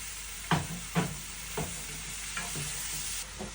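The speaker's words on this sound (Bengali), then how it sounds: "মাছটি দিয়ে আবার একটু কষাই নিই" Fish pieces fry in a pan while being stirred, a steady sizzle broken by about six rhythmic scraping strokes of a spatula, close up with no talking.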